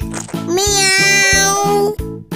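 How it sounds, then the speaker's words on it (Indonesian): A single drawn-out cat meow, loud and close, sung with a clear rising then falling pitch and framed by brief sounds before and after. "Cat."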